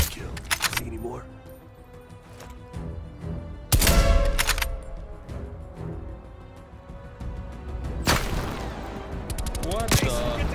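Shooting in the video game Call of Duty: Black Ops Cold War, with several loud, separate bursts of gunfire set apart by quieter stretches while voices talk throughout.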